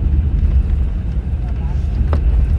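A Volvo multi-axle sleeper bus cruises along the highway, its deep engine and road rumble droning continuously from inside the cabin, with faint rattles and no talk.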